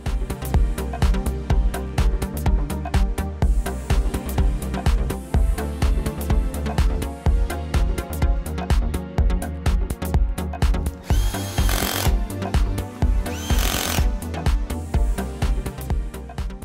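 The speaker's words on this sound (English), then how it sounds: "Tighten the screws securely." A power tool drives screws on a 1 HP 56 frame boat lift motor, whirring loud and close in rapid stuttering pulses, with brief higher whines and pauses between bursts.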